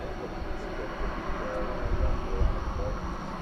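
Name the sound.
Qantas jet aircraft approaching at DFW Airport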